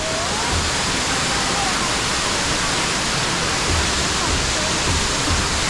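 Situbo Falls roars as a broad, steady rush of falling water, loud and close, with no break in its constant wash of sound.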